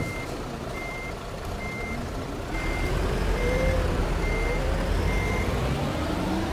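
A Pahala Kencana bus reverses during Indonesian holiday homecoming convoy traffic, its reversing beeper sounding in steady evenly spaced beeps over a low engine rumble that grows louder midway.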